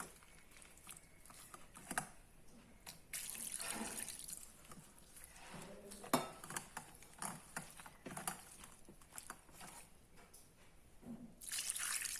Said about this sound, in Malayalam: തണുത്ത വെള്ളം കുറേശ്ശെ ഒഴിച്ചു കൊടുക്കണം